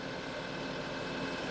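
A TYM T754 utility tractor engine idling, a steady low mechanical rumble with an even throbbing pulse, close and moderately loud with no voices.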